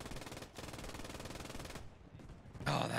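MG42 machine gun from a Post Scriptum battle, rattling in a steady rapid burst for nearly two seconds, then a pause and a louder, closer blast near the end.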